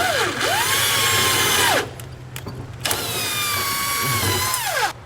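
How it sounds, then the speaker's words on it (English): An impact wrench runs a 1/2 by 4 inch bolt through on a B&W fifth wheel underbed kit install under a 2020 Ford F-250, giving two loud, sustained whining bursts of about two seconds each, separated by a brief pause with no talk. "I'm going to run it through with an impact just a few times"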